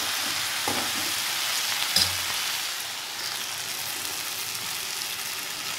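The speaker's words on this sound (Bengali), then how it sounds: "এখানে আমি পরিমাণ মতো একটু জল দিয়ে দিচ্ছি, দিয়ে এটা আমি নেড়ে দিচ্ছি ভালো করে" Cauliflower curry frying in a pan keeps up a steady hiss and crackle as water is poured in and stirred. A brief sharp spurt comes when the water hits, then the sizzle settles into a constant, even fizz.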